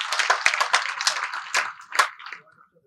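An audience claps at a government cooperative event held on Vijayadashami, a short burst of crowd applause that swells and then thins out over about three seconds.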